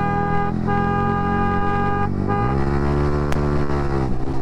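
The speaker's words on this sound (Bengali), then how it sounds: "ওভারটেকিং এর সময় একটু থ্রটল বেশি দিয়ে ওভারটেকিং করতে হয়, অ্যাক্সিলারেটর বেশি দিয়ে" A Yamaha R15 V3 motorcycle engine hums steadily, then its pitch climbs sharply as extra throttle is given for an overtake on a night road, with a loud, continuous, rising whine.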